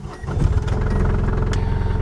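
A Microcar M.Go's small engine runs steadily and close by, a loud continuous buzzing drone with no voices over it.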